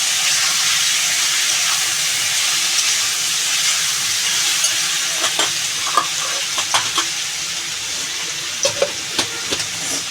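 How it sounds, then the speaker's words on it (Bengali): Water hits a hot pan of sautéed Bengali curry with dried shrimp, potato and green plantain, giving a loud, steady sizzle with scattered stirring clicks near the end. "এবার ভালো করে কষিয়ে জল ঢেলে দেবো"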